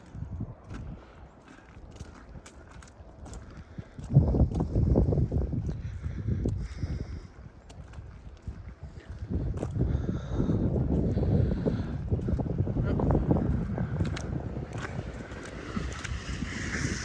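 Wind whips snow around outdoors in a snowy rural setting in March, producing heavy gusty rumbling and buffeting that surges and fades in waves, with faint scattered crunches and knocks underneath.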